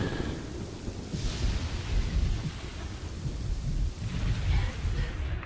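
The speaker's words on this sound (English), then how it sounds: "Now this lightning is being a real pain in our side" A thunderstorm rolls over a medieval city-builder game, Kingdoms & Castles, with two deep, rumbling thunder surges over steady rain across several seconds.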